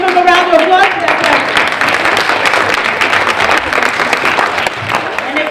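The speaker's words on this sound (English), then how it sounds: "Give him a round of applause for that" Round of applause from a youth forum audience after a good question, dense crowd clapping filling the room, with a voice briefly audible at the start.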